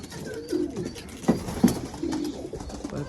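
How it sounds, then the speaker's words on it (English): Pigeons coo softly in a loft, a few low murmuring calls close by with a couple of louder coos near the middle, over a faint background hum. "film the birds flying."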